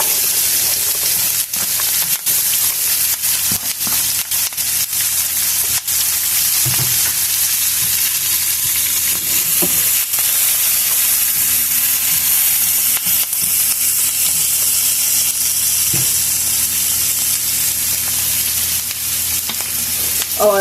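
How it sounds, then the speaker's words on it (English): Onions dropped into a hot pan over scraped-up browned bits from a slow-cooker roast fry with a loud, steady, close sizzle throughout, broken by a few faint stirring clinks. "And I'm going to throw my onions in"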